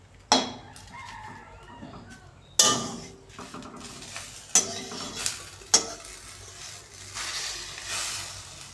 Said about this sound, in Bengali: এখন পিঠাটা খুন্তির সাহায্যে জুড়ে নিতে হবে।